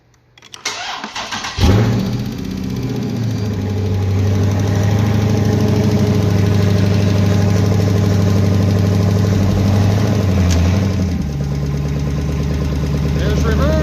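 A car's Gen III engine, freshly swapped in, cranks briefly, catches with a sharp rise, then settles into a steady, loud idle close by, with a slight dip near the end.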